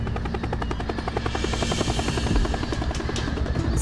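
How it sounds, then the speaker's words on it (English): A helicopter flying low directly overhead at an outdoor wedding, a loud, steady rhythmic rotor thudding with engine whine that fills the whole stretch. "This chopper is flying so low, directly over the top of us."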